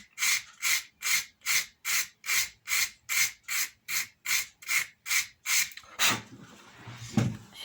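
Wood sanded by hand with 80 grit ordinary sandpaper, about a dozen evenly spaced rasping strokes in a steady rhythm, close and clear, then a few handling knocks.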